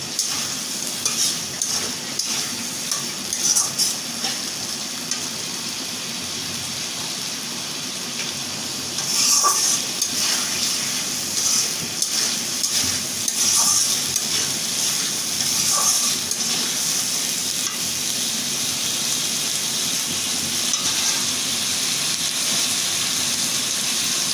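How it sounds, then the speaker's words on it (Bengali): Raw onion sizzles steadily in a hot pan while being cooked down for a sajna and ilish dish, with occasional stirring scrapes and soft clinks over the continuous frying hiss. "পেঁয়াজটা আমি কাঁচা কাঁচা একটু কষিয়ে নেব যাতে গোটা গোটা থাকে"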